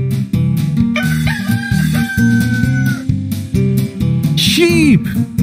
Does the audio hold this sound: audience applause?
no